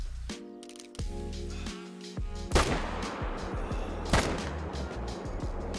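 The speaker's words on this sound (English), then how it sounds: "Okay, I'll take this shot." Two sharp hunting rifle shots ring out in the Call of the Wild hunting game on the Emerald Coast, the first near 2.5 seconds and the second near 4.2, each trailing into a rumbling decay over steady ambient music.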